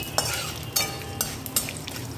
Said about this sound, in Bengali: এটাকে ভাজা ভাজা করবার জন্য এবার এক সামান্য একটু সর্ষের তেল দিয়ে দিলাম।